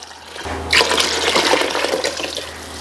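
About a liter of water pours from a vessel into a cooking pot already holding tomato and turkey broth for a jar meal. The splashing starts suddenly after a low hum and runs steadily, loud and close, with no voices.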